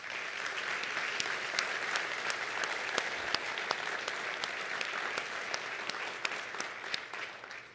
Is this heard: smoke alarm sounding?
no